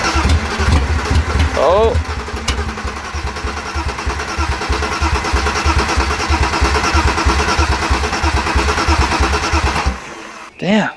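The engine of a T18 project build cranking over without catching: a steady, rhythmic starter churn for about ten seconds, then it stops and a person briefly exclaims.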